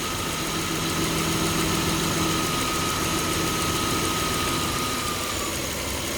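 A 2003 Toyota Camry V6 idles steadily up close with the AC compressor and cooling fans running, a continuous whirring engine drone with slight knocking vibration and no talking.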